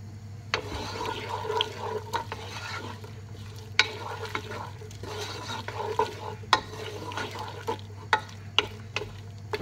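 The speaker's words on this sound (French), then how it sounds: "je viens y mettre les échalotes que je vais faire revenir quelques instants" Shallots sautéing in melted butter and honey in a pan, a soft steady sizzle with intermittent clinks and scrapes of a utensil stirring them, close up, over a constant low hum.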